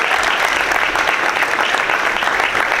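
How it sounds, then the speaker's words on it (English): A crowd at a wildcat statue dedication applauds Gail Whitworth, a full, continuous burst of clapping at steady loudness throughout. "Let's give her a big round of applause."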